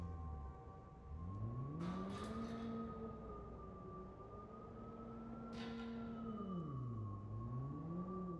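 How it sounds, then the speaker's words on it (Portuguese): A synthetic electric-car whine rises and falls through a parking garage in the video game Watch Dogs 2, steady and droning with two short bursts of extra noise. "carro elétrico dentro de estacionamento, barulho é horrível, velho"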